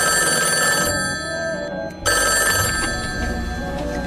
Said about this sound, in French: La seule chose qu'il devait faire, c'était veiller toute la nuit sur un vieux téléphone qui n'avait jamais sonné